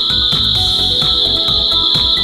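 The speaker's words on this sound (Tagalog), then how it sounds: "Maingay na yung alaga nating mga tinatawag dito na gangis or kuliglig ba yan sa Tagalog." Crickets chirp at dusk beside a garden plant: a shrill, continuous high trill rings close and loud throughout, steady and unbroken, with no talking.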